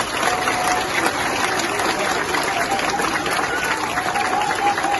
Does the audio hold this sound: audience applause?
yes